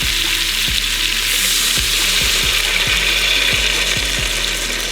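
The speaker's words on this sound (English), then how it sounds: "So I'm gonna deglaze the pan with a little bit of beef broth." Beef broth hitting a hot pan after browning wild hog pork, a loud, dense, steady sizzle with a series of regular low clicking ticks running underneath, no voices present.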